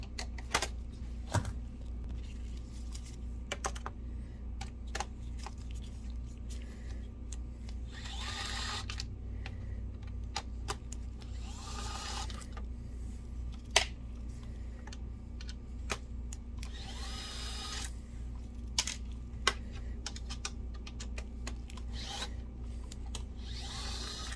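A nut driver backs 5mm fasteners out of a BenQ HT1075 DLP projector, with scattered small clicks and brief scraping turns over a constant low background hum, close and fairly quiet.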